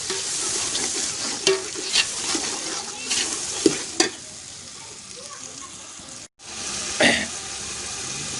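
Garlic and ginger paste being stirred in a large cooking pot for a big mutton dish, with repeated scraping clacks of a spoon against metal over a steady frying sizzle, no voices.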